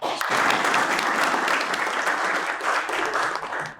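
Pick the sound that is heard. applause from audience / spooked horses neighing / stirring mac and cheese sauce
applause from audience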